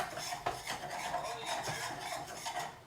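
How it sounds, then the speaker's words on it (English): Flour being stirred into melted butter in a pan for poutine gravy, with soft repeated scraping of a utensil against the pan over a faint sizzle, quiet and close. "let's do a little bit more flour in there. Stir it up."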